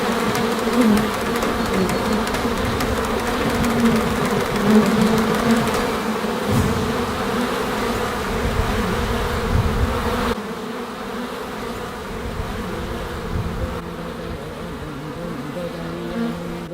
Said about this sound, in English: we stopped en route to have a look at the nests of jungle honeybees, and that was incredible.